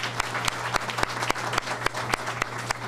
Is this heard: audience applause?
yes